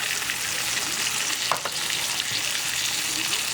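Mushrooms frying in an oven-safe skillet make a loud, steady sizzle close up, with a brief stirring scrape partway through.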